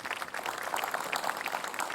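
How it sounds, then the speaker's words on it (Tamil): Audience in a Tamil television fun show with children clapping together, a steady crackling patter of many hands at moderate loudness lasting throughout, with no talk over it. "கைத்தட்டல் கொடுங்க, கைத்தட்டல்."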